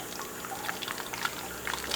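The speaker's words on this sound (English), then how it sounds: "So now we're going to put the water in." Warm water is poured into a plastic bottle for a DIY aquarium CO2 setup, a steady close trickle with small irregular splashes and drips throughout, no speech.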